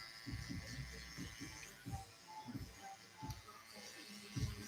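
An electric shaver buzzes steadily during a live fade haircut, a close, continuous hum under low chatter and background music, with the motor tone wavering slightly as the clippers move across the head.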